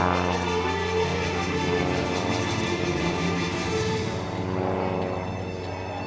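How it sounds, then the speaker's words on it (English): An American Champion Decathlon aerobatic airplane performs at a Flying Circus airshow in Bealeton, Virginia, its piston engine droning loudly with a steady harmonic hum that shifts slightly in pitch as it passes, fading a little at the end. "These airplanes are very good for banner towing, cross-country flying, aerobatic instruction."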